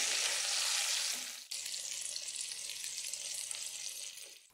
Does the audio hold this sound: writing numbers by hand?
no